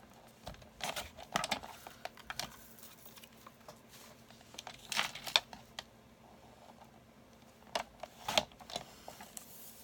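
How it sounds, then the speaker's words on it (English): Scissors cutting out stamped paper, faint close snips and rustles in small irregular clusters with quiet gaps between them, no talk. "I'm going to cut this out."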